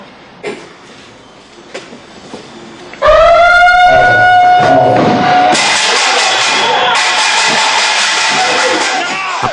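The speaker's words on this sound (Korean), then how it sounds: "갑작스런 사이렌과 꽹과리 소리" Near midnight at a Korean marine force recon training camp, a sudden loud siren-like wail cuts in after quiet footsteps, followed by harsh metallic clanging of a kkwaenggwari gong in a clamorous emergency alert.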